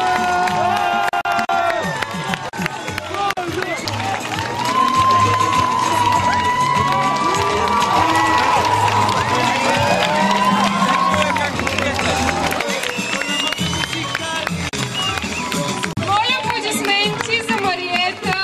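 Schoolchildren and teachers at a school Halloween event cheer and clap as pupils parade in costumes, a loud, lively crowd din with shouting, babble and music running throughout, hands clapping mixed in beneath.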